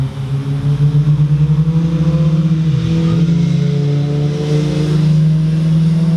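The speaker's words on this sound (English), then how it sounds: "And here come a couple of motorcycles." Engine drone of motorcycles rising and shifting in pitch as they approach and pass nearby, loud and continuous.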